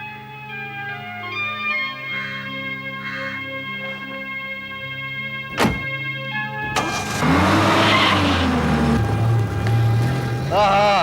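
A car roars off from standstill, its engine rising loudly with a whoosh of tyre noise that follows a stretch of dramatic music.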